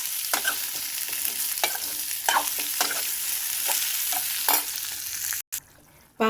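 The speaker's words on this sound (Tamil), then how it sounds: "எண்ணெயில் வதங்கட்டும்" Chana dal, urad dal, green chillies, garlic cloves and onion frying in oil, a steady close sizzle broken by repeated scraping stirs, then a brief cutoff near the end.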